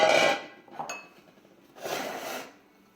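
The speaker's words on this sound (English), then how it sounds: "So I'm just going to mix them in this big pot. Just dump them all in." Vegetables for ratatouille tumble into a big cooking pot, a clattering burst of knocks and clinks at the start, then a second rattling spell of pieces shifting and mixing, fairly close, with no talking.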